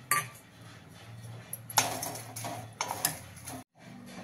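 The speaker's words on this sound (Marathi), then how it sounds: "आपण मिरच्या भाजून घेऊ" Green chillies roast in a hot kadhai over a gas flame, with loud, irregular metallic clinks and scrapes as a spatula moves them around, over a faint low hum.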